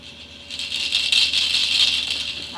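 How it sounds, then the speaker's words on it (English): A small rattle shaken steadily for a couple of seconds, a bright continuous clatter of beads, fairly close and with no talking. "That's a rattle."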